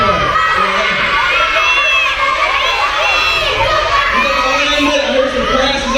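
A crowd of elementary schoolchildren at a school assembly yells and shouts answers all at once, loud and continuous, a dense mass of overlapping young voices.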